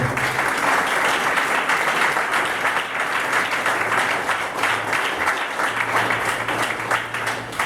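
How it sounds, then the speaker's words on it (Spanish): A church congregation at a Good Friday fasting service breaks into long, continuous applause that holds at an even level throughout, with a faint low hum underneath. "Den otro aplauso a Jesús, por favor"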